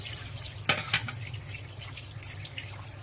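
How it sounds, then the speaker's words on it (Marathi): Water runs steadily from a tap in a kitchen while raw chicken soaks and is washed, a low continuous splash with a couple of sharper pours and clinks early on. "मी धुवायला पाणी टाकून 5 मिनिटं ठेवणार आहे"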